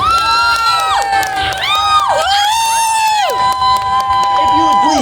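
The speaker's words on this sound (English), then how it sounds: "Give my brave volunteer a round of applause." A stage show audience bursts into loud cheering and whoops for a volunteer, with shrill, sliding shouts and children's voices rising over the crowd, and scattered clapping buried beneath the din throughout.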